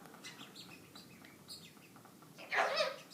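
A pet bird lets out a short burst of bright chirps near the end, close and fairly loud after a stretch of faint, scattered twitters in a quiet indoor room.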